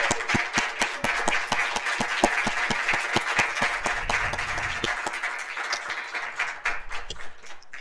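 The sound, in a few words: audience applause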